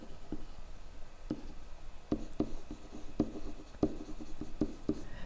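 A marker writes on a board during a geometry lesson on pyramids, producing a series of sharp, close taps and short scratchy strokes in an uneven rhythm, heard alone without talk.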